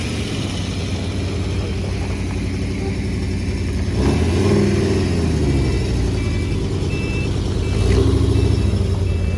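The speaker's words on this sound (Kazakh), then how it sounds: "Машиналар келип отат чекесинен." Nearby car engines idle steadily at a car market, then two engines rev up in separate surges partway through, rumbling loudly against a constant motor drone.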